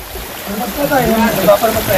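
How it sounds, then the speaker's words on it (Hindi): Water flowing steadily along a stream in Nandgaon in the Braj region, a constant broadband rush that runs through the whole moment beneath a voice. "पानी देखो कैसे, ऐसा लग रहा है जैसे पहाड़ों से आ रहा हो पानी"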